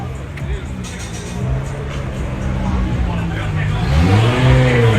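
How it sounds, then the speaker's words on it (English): A BMW drift car's engine revs up loudly nearby at a DriftMasters practice session in Ferropolis, its pitch climbing and wavering as it builds, over crowd chatter and background motor rumble. "Rocking BMW engine."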